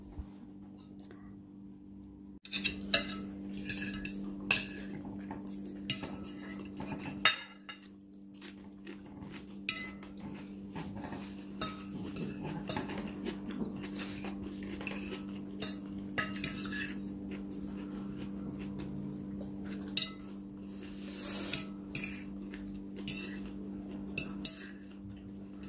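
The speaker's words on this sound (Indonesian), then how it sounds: "Ini aku lagi makan nasi goreng." Metal cutlery clinks and scrapes against plates while someone eats nasi goreng, Indonesian fried rice, with irregular small chinks close by over a steady low background hum, no talking.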